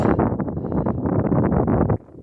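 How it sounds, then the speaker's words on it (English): Steady outdoor wind at high elevation above a river valley in Oregon buffeting the microphone, a broad low rumble with gusty surges that drops off abruptly near the end. "It's a little breezy"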